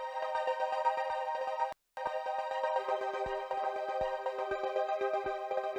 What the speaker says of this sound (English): It makes it sound all stuttery.